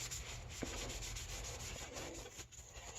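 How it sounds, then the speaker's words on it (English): Hydrofoil part being scrubbed clean with lacquer thinner, a steady close-up rubbing and scouring that runs continuously with a brief heavier scrape partway through. "We're going to try and clean it with lacquer thinner."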